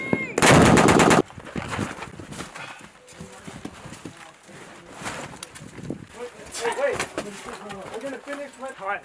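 A Norwegian military FN MINIMI belt-fed machine gun fires one short, loud, rapid burst close by, followed by quieter outdoor activity and people talking in the background.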